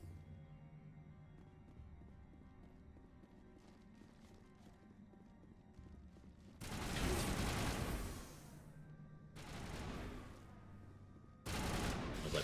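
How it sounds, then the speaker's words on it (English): Bursts of video game gunfire from an Insanity-difficulty run, three loud broadband volleys of rapid shots breaking over a quieter background, each lasting a second or two. "I was like, what are you shooting at?"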